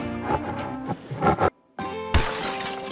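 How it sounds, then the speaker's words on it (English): A cartoon lion roars in a few loud, growling bursts with music behind, then a brief silent gap before a loud crash-like burst fills the rest. "Lion."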